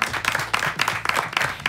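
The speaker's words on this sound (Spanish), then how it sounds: "Director, a vos, aplausos, gritos y ovación" A crowd claps and cheers for a rugby programme's director, the applause dense and steady with bursts of voices rising every half second or so, close and fairly loud throughout.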